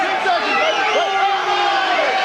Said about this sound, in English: The crowd at the auditorium here at Elysia have absolutely gone bananas.